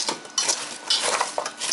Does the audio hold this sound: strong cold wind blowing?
no